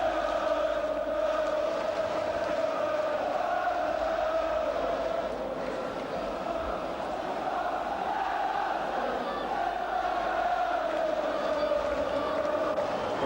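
Liverpool supporters on the Kop at Anfield during a 1988/89 match against Tottenham Hotspur, a steady, dense roar of crowd applause and voices that holds at an even, loud level throughout without pause.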